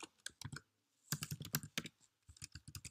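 Keys clatter on a computer keyboard as a password is typed, quick close bursts of clicks in short runs with a brief pause midway, no talking.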